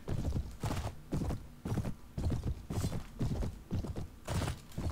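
Horse hooves in Mount & Blade: Warband thud in repeated bursts of galloping strikes, close and clear, with brief gaps between runs and no voices.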